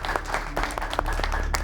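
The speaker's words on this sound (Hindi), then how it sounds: "तालियों के साथ इसका स्वागत होना चाहिए" Brief, fairly close applause from a studio audience at a televised discussion show, quick scattered claps over a low background hum.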